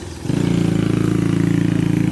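Motorcycle engine pulling hard up a steep hill in Tanay, Rizal, a steady loud low drone with a fast pulsing rhythm that swells in after a short quieter start and holds close by.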